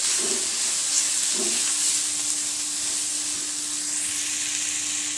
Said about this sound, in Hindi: अब हम इसे अच्छे से भून लेंगे।